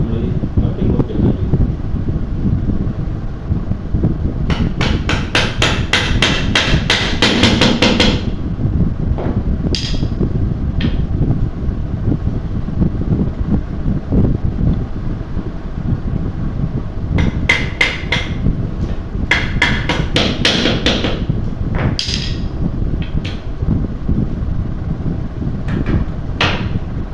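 Wooden easy chair parts are hammered together in a carpentry shop: two bursts of rapid, sharp hammer blows on wood, each several seconds long, with scattered single knocks between and steady background noise underneath.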